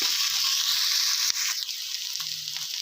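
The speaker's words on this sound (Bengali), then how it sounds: "আলুটা দিয়ে আমি একটু নাড়াচাড়া করে দিচ্ছি" Cut potatoes frying and being stirred in a pan with onion greens and poppy seeds, a close, continuous sizzle punctuated by a few soft scraping stirs.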